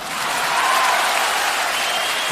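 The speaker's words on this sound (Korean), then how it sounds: "박수 소리가 나오면서 게임이 중단되는 작품을 만들어 보겠습니다." A canned applause sound effect rings out when a player reaches the star in a maze game. It is a loud, continuous wash of dense clapping from a big crowd that holds steady throughout, with no voices.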